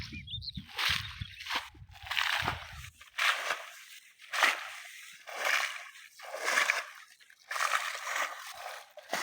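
Rainwater splashes and gushes out of a flooded wheat field in the rainy season, coming in repeated loud sloshing bursts, close by and with no talk over it.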